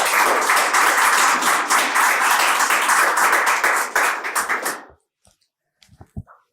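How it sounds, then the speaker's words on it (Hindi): Loud, dense applause from an audience at a poetry gathering fills the room for several seconds, then breaks off abruptly, leaving a few scattered soft knocks and small sounds. "एक बार जोरदार ताली बजाएं आप लोग"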